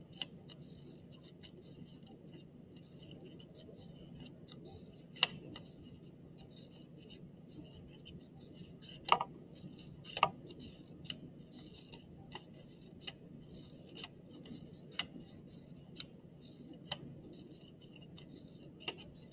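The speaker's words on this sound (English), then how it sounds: "you want to make little cuts just about halfway through" Scissors making small cuts halfway through paper flaps for kirigami, faint quiet snips recurring irregularly over a low background hum.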